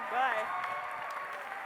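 Audience applause from a college crowd, a steady wash of clapping that runs under someone speaking over it throughout.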